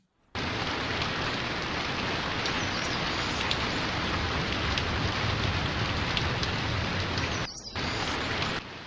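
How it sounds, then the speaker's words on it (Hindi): Heavy rain pours down in a dense, steady roar through the night, dropping out briefly for a moment near the end before resuming. No voices are heard. "बड़ी तेज बारिश हो रही है।"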